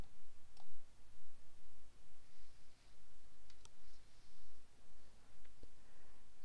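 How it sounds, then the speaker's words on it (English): Sharp, faint clicks of a computer mouse, a few isolated taps spaced irregularly over a quiet background hum. "I'm going to click here on Skype Setup, and I'll click OK for that, and just going to click on Run"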